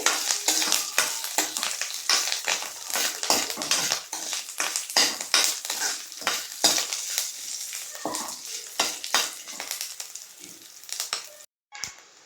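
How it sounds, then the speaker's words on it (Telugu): Steady crackling sizzle of a spice tempering with dried red chillies frying in hot oil, with sharp popping bursts throughout and a brief near-silent gap near the end. "తాలింపు వేగిపోయింది."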